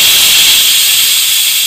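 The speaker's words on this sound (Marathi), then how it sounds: "पयली विसल जाली" A pressure cooker whistles loudly and steadily while mutton soup cooks, a continuous close hiss of escaping steam with no talk over it.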